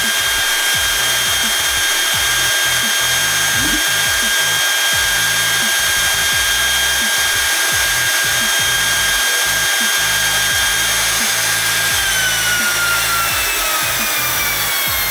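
A Drillpro cordless trimmer router, compatible with Makita batteries, runs continuously at speed with a steady, loud high-pitched whine and motor hum, heard alone throughout; its pitch shifts slightly near the end.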